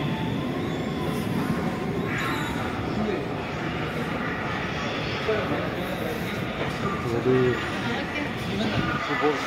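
A subway train rumbles through Dongdaegu railway station in South Korea, a steady broad roar with faint station ambience and occasional soft tones.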